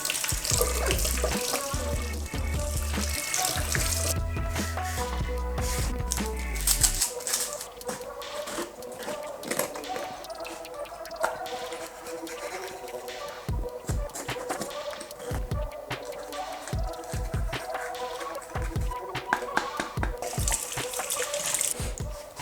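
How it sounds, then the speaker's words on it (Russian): Tap water running while fresh vegetables such as chili peppers, garlic and ginger are washed and cleaned in a sink, a steady gush at first, then handling clatters and drips, close. "Теперь моем и чистим наши овощи."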